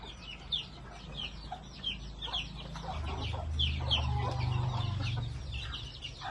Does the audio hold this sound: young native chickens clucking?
yes